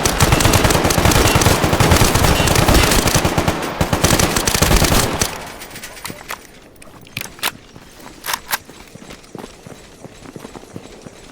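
Sustained automatic gunfire roars loud and dense in S.T.A.L.K.E.R. GAMMA, then breaks off into a handful of scattered single shots and footstep-like thuds in a quieter stretch.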